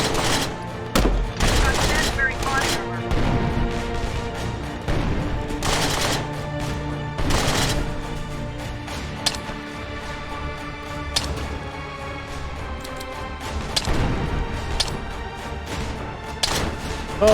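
Grenade launcher rounds blow up zombies in the video game State of Decay, a series of sharp, punchy bursts scattered irregularly over a continuous music bed.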